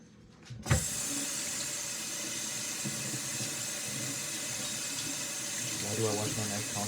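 A kitchen tap runs in a steady, close stream as a knife is rinsed under it, likely with hot water to help it cut through cheese, with a short clunk at the start and some splashing near the end.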